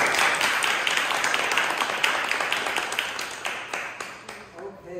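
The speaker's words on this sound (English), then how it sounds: "let's give them a round of applause" Audience applause at an artists' talk, a full room of many hands clapping steadily and loudly, thinning and fading toward the end as a voice begins to speak.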